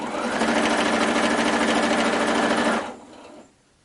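Sewing machine stitching fabric cut on the bias, a close, fast, even whirring run of nearly three seconds that stops abruptly, followed by a quieter mechanical tail.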